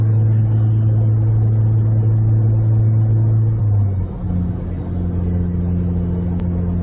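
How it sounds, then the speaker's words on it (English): A car towing a heavy trailer uphill in sixth gear gives a loud, steady low engine drone with strong harmonic hum that dips and shifts in pitch partway through, then settles into a lower, continuous strain. "trailer's kind of heavy, and so I'm not able to climb some of these hills in 6th gear"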